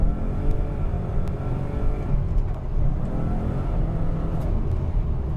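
A Maserati engine hums steadily while driving, a continuous low rumble holding at a fairly constant pitch and level throughout, with no voices over it.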